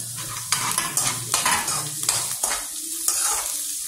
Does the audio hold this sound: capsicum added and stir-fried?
yes